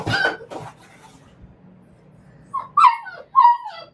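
A dog lets out a few high, thin whimpers near the end, after some brief rustling and knocking at the start.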